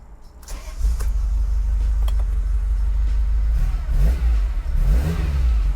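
A restored 1979 Ferrari Dino 308 GT4 engine cranks and catches, then settles into a loud, deep rumbling idle with a couple of revs near the end.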